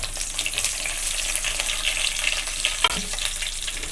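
Cinnamon, cloves, a bay leaf and curry leaves crackle in hot oil for a Tamil kadai gravy, a steady bright sizzle running throughout with a sharper pop near the end.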